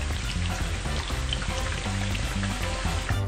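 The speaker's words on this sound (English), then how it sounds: "now I'm just gonna fry them in my oil" Pieces of cake fry in hot oil with a dense, steady sizzle and fine crackling throughout, close by and continuous, with no voices over it.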